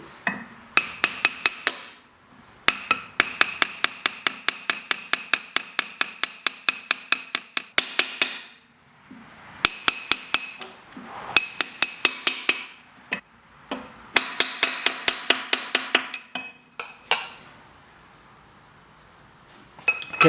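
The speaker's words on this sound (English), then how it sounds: "we'll get a soft material and we'll hammer it on" A seal is hammered onto a BMW ZF320 transmission housing through a soft material: bursts of rapid, sharp metallic taps in quick rhythmic runs, separated by short pauses, close and bright.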